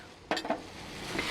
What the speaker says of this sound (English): stir it around, get that butter in there